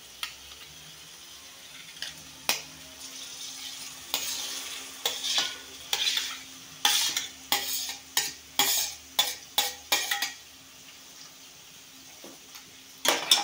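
Onions and tomatoes for an egg curry sizzle steadily in a pan while a utensil scrapes and stirs them in a run of sharp, repeated strokes, close up, with no talking.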